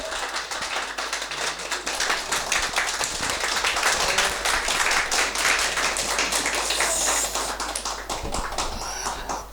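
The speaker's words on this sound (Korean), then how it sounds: "우리가 사모한만큼 큰 박수를 칠 때 하나님께서 큰 은혜 허락하실 줄 믿습니다." A church congregation claps loudly and steadily to welcome a visiting pastor at a Sunday worship service in Paris, a dense, sustained wash of applause filling the whole stretch without talk.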